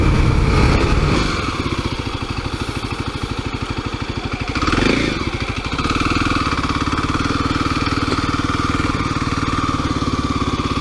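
A Kawasaki KLX300 dirt bike rides along suburban trails, its single-cylinder engine a steady close, loud drone with a brief surge of revs partway through and no talking.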